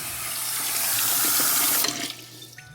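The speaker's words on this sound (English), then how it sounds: "Now let me shut off this water." A kitchen tap runs in a steady, loud hiss of water into the sink, then is shut off, leaving a quieter room with a few faint drips and small clicks.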